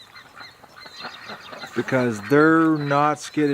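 Geese in a wet winter setting give several loud, nasal honks close by in the second half, after someone speaks briefly.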